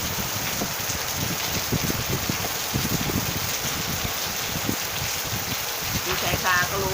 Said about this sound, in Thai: ดูสายตาก็รู้นะคะว่ามีฝน